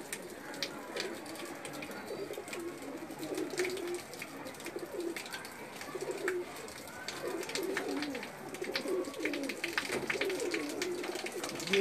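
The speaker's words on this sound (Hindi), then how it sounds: "ये लाल परी कबूतर है" Lal Pari breed pigeons coo repeatedly at close range, soft throaty rolling calls in an irregular rhythm, with faint background noise and some light movement sounds around them.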